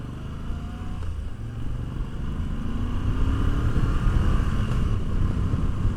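A Moto Guzzi V85TT adventure motorcycle engine drones steadily at cruising speed, with a low rumble and wind rush that grow slightly louder over the ride.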